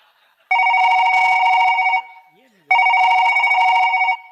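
A telephone rings loud and close in a Kannada stage comedy play, with two long electronic bursts separated by a short pause.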